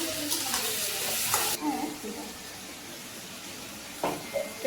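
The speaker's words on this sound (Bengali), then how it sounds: "এই যে আমি এখন লাড়া দিতেছি মালাই চিংড়ি" Malai chingri, a prawn curry, being stirred in a pan with a sizzle and a few scraping clatters of the spoon, heard under someone talking.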